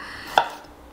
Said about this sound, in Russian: И мелко-мелко режу.